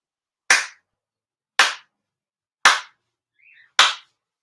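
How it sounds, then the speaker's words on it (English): Four ceremonial hand claps at a Shinto spring memorial ceremony, sharp and evenly spaced about a second apart, each ringing briefly in a quiet hall, with a faint murmur between the third and fourth. "tomoni haire, 4 sincere claps"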